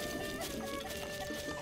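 Chickens cluck in The Legend of Zelda: Breath of the Wild, with soft, scattered clucks over a steady game ambience and a background music drone.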